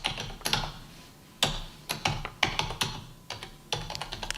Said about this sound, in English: I'm going to play the sound of someone typing.